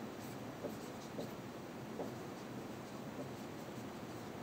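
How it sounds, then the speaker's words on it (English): A pen or marker scratches across a surface while working through a chemistry rate-law derivation, giving faint, intermittent strokes under a steady low hiss with no one talking. "I'll write it here."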